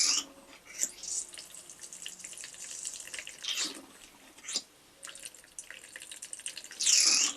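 Paraffin being flushed through a Hurlock kerosene stove to wash water out, a close, trickling and splashing liquid stream with irregular pours and drips, louder bursts near the end.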